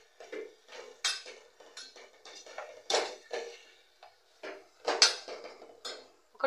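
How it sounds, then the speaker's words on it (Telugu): A spoon scrapes and clinks against a pan while stirring carrot rice, in a series of irregular metallic knocks and scrapes, close and moderately loud, with no talking. "ఒకసారి మళ్ళీ అయితే కలుపుకుందాము"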